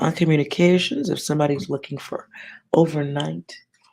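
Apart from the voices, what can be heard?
No distinct noise like a dog, phone or traffic.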